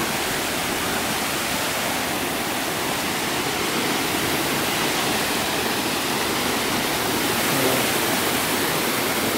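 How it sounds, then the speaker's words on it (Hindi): Rushing mountain stream water at Katra, near Vaishno Devi, roars steadily and loudly, a dense continuous wash of sound with no breaks, close by. "ये देखो इसका मस्त पानी चल रहा है"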